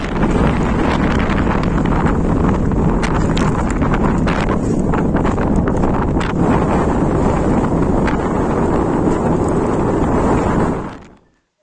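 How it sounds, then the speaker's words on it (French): Strong, forceful wind roaring steadily against the microphone on an exposed mountain summit above a 1500 m drop in the Pyrenees, a loud continuous buffeting rush with gusty surges that runs unbroken, then cuts off at the end. "avec le vent qui forcit"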